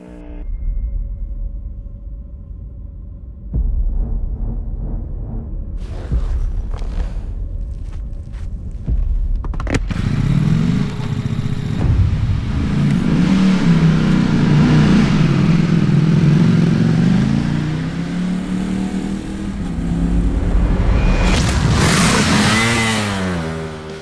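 A Ducati V4 motorcycle engine starts and idles with a few clicks and taps, then rumbles and revs loudly nearby, with rising and falling throaty surges and a final sharp climb in pitch.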